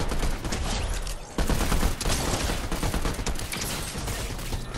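Rapid P90 submachine gun fire in Fortnite, a dense, loud and continuous burst of shots running throughout with a brief dip partway, no talking over it.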